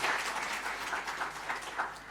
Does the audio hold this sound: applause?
yes